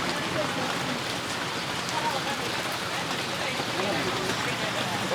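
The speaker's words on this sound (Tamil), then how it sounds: "சரியான மழை பெய்யுது வெளியில" Heavy rain falls outside in a dense, steady hiss that fills the whole stretch without a break, loud and close, with faint voices in the background.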